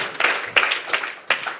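Audience applause at a convention gathering, a few separate bursts of clapping rising and fading over a steady crowd wash, moderately loud with no voices.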